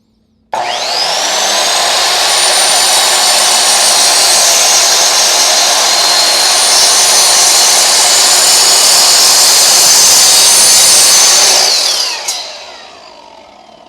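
A miter saw fitted with a 40-tooth carbide-tipped blade cuts wood: a loud, close motor whine starts abruptly, holds steady through the cut for about eleven seconds, then winds down as the blade spins to a stop.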